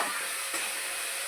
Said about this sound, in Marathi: हिरवी मिरची तेलामध्ये छान अशी परतून घ्यायची